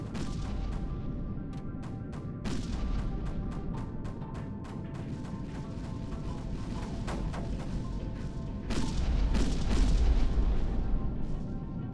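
Spaceship combat in the video game Kinetic Void: rapid weapon fire of dense repeated blasts and booms rolls continuously, growing heavier near the end.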